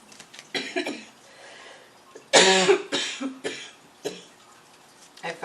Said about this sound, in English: I felt that cough coming on.